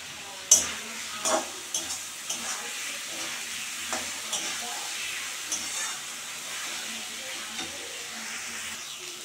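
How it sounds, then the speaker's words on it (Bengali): Teasel gourd, potato and tomato sautéing with spices, a soft steady sizzle punctuated by a series of spatula stirs and scrapes, close and fairly quiet with no voices. "কাঁকরোল আলু টমেটো কষানো হয়ে গেছে"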